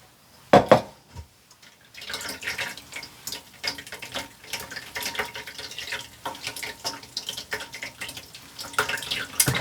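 Citrus juice from oranges and grapefruit is poured through a fine mesh strainer, a steady liquid trickle and splatter with small clinks at the start, then continuous pouring and dripping that runs on without talk.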